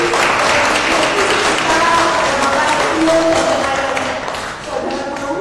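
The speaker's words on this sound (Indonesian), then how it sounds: "Kita beri tepuk tangan, terima kasih." An audience at an Easter gathering claps steadily and loudly, a dense wash of hand claps with some voices mixed in that eases slightly near the end.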